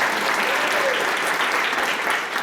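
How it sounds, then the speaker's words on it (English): A brief wash of audience applause, steady and fairly soft, lasting a couple of seconds at a political speech. "You can clap for that"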